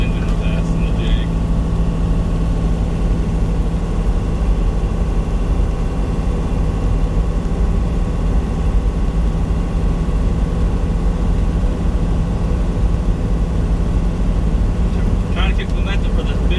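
A semi truck's diesel engine drones steadily while driving, a loud continuous low rumble with a faint steady hum, heard from inside the cab.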